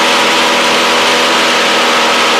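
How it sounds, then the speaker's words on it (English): A light aircraft engine runs steadily at low throttle during the approach to landing, a loud, even drone with no pauses, holding alone throughout. "Keep the throttle right there. You don't want to chop it all the way because you'll kill your engine."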